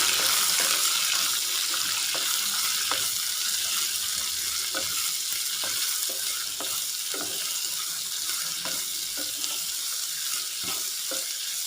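Chopped onion sautéing in a pan for a papaya mezhukkuvaratti, a constant close sizzle broken by repeated light stirring clicks and scrapes, with no voices.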